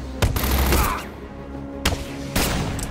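Gunfire aimed at the player in the video game Batman: Arkham City: loud, dense bursts of shots come close together, separated by short pauses.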